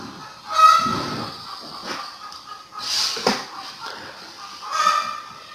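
Chickens clucking outdoors, several short, close cackling calls spread across a few seconds, fairly loud and without speech.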